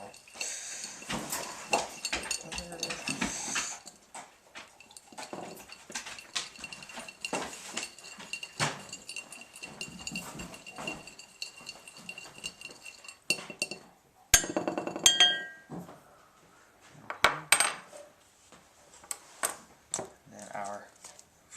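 Ingredients for an ancient Roman dish being stirred together with pepper in a bowl, giving bursts of clinking and scraping utensil sounds, loud and close, with pauses between rounds of mixing.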